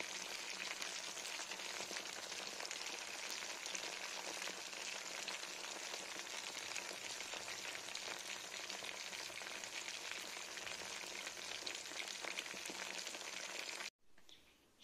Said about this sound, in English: I have added the prawns to the oil. Now we're gonna fry them till they are crisp.